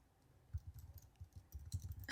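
Quiet typing on a computer keyboard: soft, irregular clusters of clicks and taps that come in short bursts with brief pauses, and no voices.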